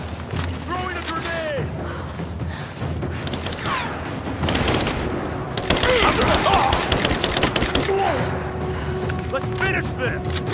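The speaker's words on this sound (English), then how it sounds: "Laying down covering fire! Light her up!" Bursts of covering gunfire from Rise of the Tomb Raider, a helicopter escape sequence: dense, rapid automatic fire that builds louder midway, with game voices and effects mixed in.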